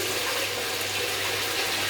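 Cold tap water runs in a steady, loud, close stream to rinse detergent off items, with no pauses.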